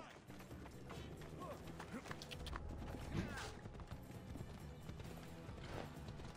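Horse hooves clip-clop rapidly in Assassin's Creed Odyssey, faint and a little distant beneath game music and ambient sound, with a brief whinny-like cry in the middle.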